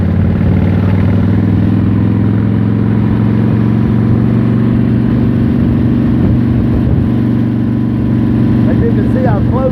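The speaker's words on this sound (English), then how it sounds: "you just like to drive safe when you're on a motorcycle" A motorcycle rides along a road in Palm Beach, South Florida, its engine giving a steady, loud, continuous drone throughout, with someone talking over it.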